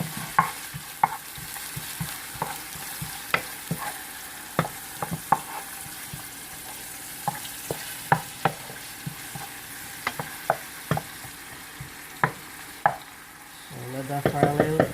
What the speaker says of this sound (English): So let this fry up like 2 minutes.